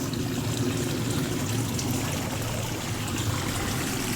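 A stream of water flows steadily in a dense, even rush, with no breaks or voices over it.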